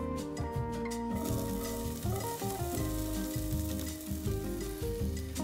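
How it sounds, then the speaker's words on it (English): About a tablespoon of onions sautéing in a pan for an edamame puree, a steady close sizzle running beneath prominent background music. "We're gonna first saute some onions, about 1 tablespoon."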